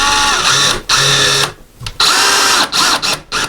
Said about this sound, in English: now we'll put our second screw in before we tighten it up